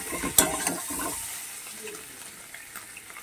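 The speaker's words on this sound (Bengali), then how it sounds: "তেলটা গরম হয়ে গেছে, ডিমগুলোকে আমি ভেজে নিচ্ছি।" Duck eggs fry in hot oil: a sharp spatter opens, then a soft, steady sizzle fades gradually, with faint stirring or water sounds, close by and without talk.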